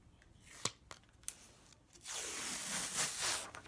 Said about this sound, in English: pull that plastic carrier off